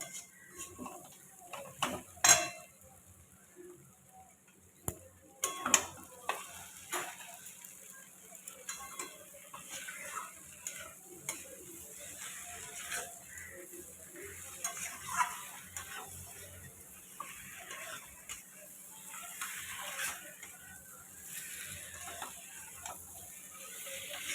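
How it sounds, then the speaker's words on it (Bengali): Potato, pointed gourd and fried prawns stir-fried in spices in a pan, with repeated spatula scrapes and clatters over a low sizzle, close and irregular, without talk. "এবারে দিয়ে দেব আলু পটল চিংড়ি মাছ ভাজাটা একসাথে দিয়েই ভালো করে কষাবো"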